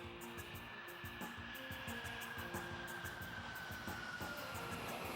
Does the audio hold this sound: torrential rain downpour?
no